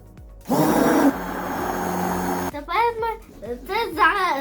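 A blender whirs through a homemade Nutella base with cocoa, a loud buzzing run of about two seconds, followed by someone talking over a lower background hum.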